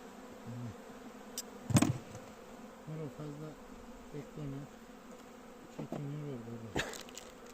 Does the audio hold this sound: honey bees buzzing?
yes